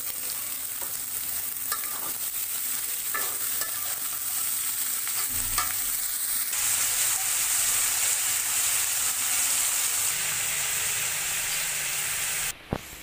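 Vegetable bhaji frying in a pan gives a continuous hissing sizzle up close, with occasional scrapes and knocks from stirring and a brief clatter near the end.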